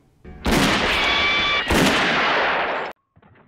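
Loud gunfire rings out in a Western movie scene: two sharp shots, each followed by a long roaring echo that fades about three seconds in, then near silence.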